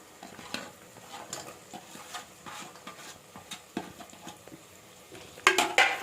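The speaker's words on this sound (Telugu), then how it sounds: "ఇప్పుడు ఆనియన్స్ వేసుకుందాం." Onions frying in a pan for mutton biryani, with steady soft sizzling and scraping stir strokes, then louder clattering pan sounds near the end.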